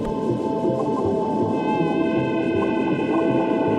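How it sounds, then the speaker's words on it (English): An underwater scene in Minecraft carries a dolphin calling somewhere in the distance, its faint squeaks and clicks set against a dense, steady wash of water ambience and a low drone that fills the whole stretch. "And then you can hear the dolphin"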